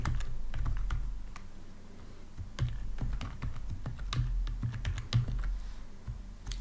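Computer keyboard keys clatter in uneven bursts of quick taps and pauses as someone types code for a body mass index program, close and clear with no voice.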